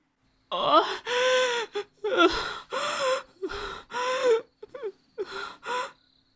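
A woman moans and gasps in pain in a Thai audio drama, an elderly woman trembling in the night: a run of strained, breathy vocal moans in close succession, each broken by sharp gasping intakes, loud and close.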